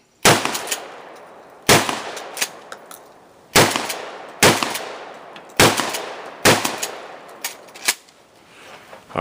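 A 12 gauge shotgun fires bird shot, with about seven loud, close blasts at uneven intervals, each sharp report trailing off in a ringing decay.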